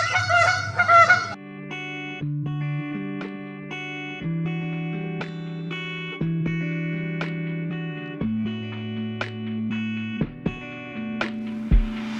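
A goose honking repeatedly in sustained nasal calls, close and fairly loud, with a short burst of noise at the very start.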